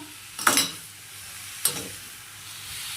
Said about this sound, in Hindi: तो चलो ये चम्मच चला देता